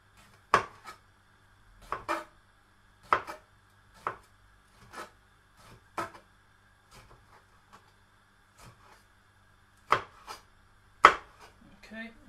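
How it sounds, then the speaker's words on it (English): A kitchen knife slicing red and green chillies thinly on a board, with slow, careful, irregular taps spaced about a second apart, close and quiet with no talk. "I want to be careful, because I want to slice them quite thinly"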